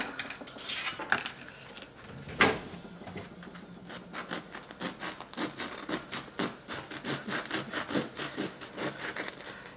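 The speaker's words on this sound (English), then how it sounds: "let me get my knife and cut into this" A knife saws into a baked ham and cheese roll, giving rapid rhythmic scraping strokes against the crust and a plate or pan, close and moderately quiet, with no talking.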